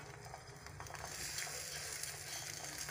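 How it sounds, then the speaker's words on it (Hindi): An egg fries in a pan with a steady, close crackling sizzle that holds at an even level throughout, with no talk. "देखे अब हमारा अंडा फ्राई हो रहा है"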